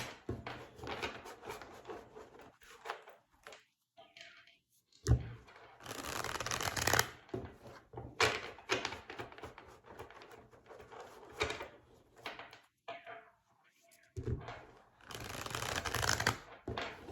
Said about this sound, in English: I'm just gonna shuffle, but I'm not gonna let the card fall.